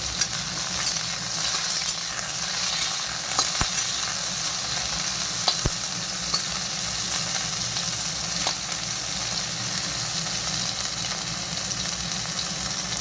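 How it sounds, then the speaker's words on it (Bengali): Bitter gourd pieces fry in hot oil for a mixed-vegetable sukto, giving a steady, close sizzle throughout with a few sharp pops and clicks and no talking. "উচ্ছে কটা একটু ভেজে নিই ভালো করে।"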